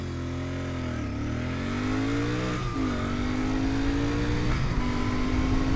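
A 2025 Royal Enfield Bear 650 motorcycle pulls hard up to 60 mph, its engine note rising loudly through several gears with brief dips at each shift, heard close from the rider's position.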